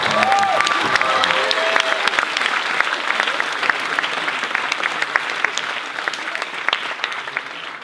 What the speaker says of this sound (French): Alors on peut l'applaudir parce qu'il a souffert.